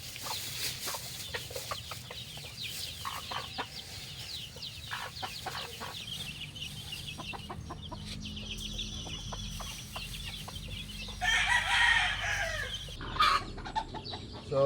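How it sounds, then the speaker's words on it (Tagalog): Native chickens and young pullets on a farm cluck steadily nearby, with scattered bird calls and a louder burst of crowing or squawking toward the end. "10 15 days old native chicken"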